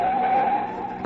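A taxi brakes hard and skids, its tires letting out a loud, sustained squeal for about a second before fading, followed by a short thud; no voices are heard.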